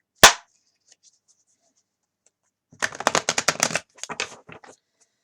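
A sharp tap, then a quiet pause, followed by a rapid flurry of tarot card riffling through an unshuffled Aquarian Tarot deck and a shorter second shuffle.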